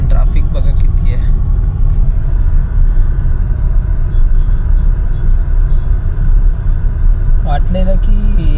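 Heavy midday city road traffic rumbles close and loud with continuous engine drone from cars and buses, brief horn-like tones near the start and end, and people talking at times.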